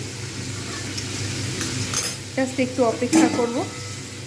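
Potatoes and snake gourd fry in a generous amount of oil over medium heat, a steady low sizzle joined partway through by clinking utensil strokes in the pan, while a voice speaks briefly.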